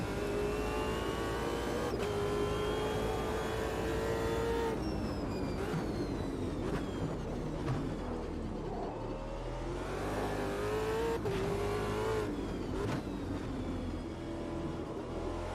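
A Super V8 race car engine in Automobilista 2 revs steadily and loudly throughout, with repeated upshifts and brief lifts as the pitch climbs and drops between gears.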